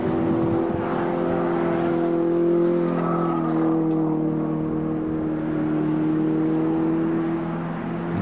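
Racing cars at Silverstone in 1999, including an MG Midget and a Lotus 7, roar past with sustained droning engine notes that shift in pitch, loud and continuous without voices.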